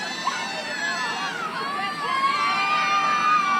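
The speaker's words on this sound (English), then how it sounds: "Crowd starting to get into it a little bit" A crowd at a championship-weekend lacrosse game cheers and shouts, a steady roar of voices building slightly toward the end.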